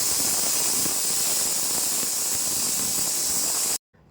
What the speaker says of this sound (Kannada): ಕುಕ್ಕರ್ ವಿಷಲ್ ಕೂಗಿ ಪೂರ್ತಿಯಾಗಿ ಕೂಲಾಗಿದೆ